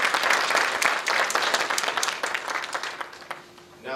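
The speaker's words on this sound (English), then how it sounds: "Let's give them another round of applause." An audience applauds the Lawson State Dance Team at a commemorative ceremony, dense loud clapping that thins and fades toward the end.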